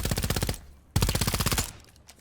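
Automatic gunfire in the video game Vampire: The Masquerade - Bloodhunt, with two close, loud bursts of rapid, evenly spaced shots separated by a brief gap, then a few trailing tail-off sounds.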